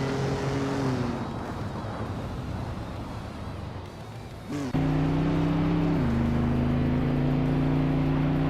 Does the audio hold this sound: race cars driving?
yes